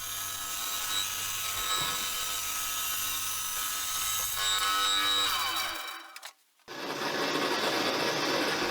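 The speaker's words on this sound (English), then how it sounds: "I then moved over to the bandsaw and cut the Perspex out on there" Bandsaw blade cutting through a Perspex sheet in a workshop, a loud steady high-pitched whine with a rasping edge that runs for several seconds, cuts out briefly, then returns as a noisy rush.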